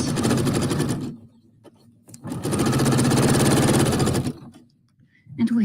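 A sewing machine stitches decorative thread in two steady runs of rapid, even mechanical clatter, close and loud, broken by a short quiet pause between them.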